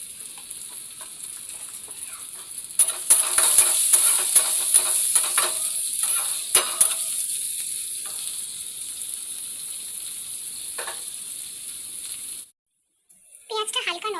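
Onions sizzle steadily in hot oil for a ghugni dish, with bursts of spatula stirring in the first half, then the frying hiss continues alone before a brief pause near the end.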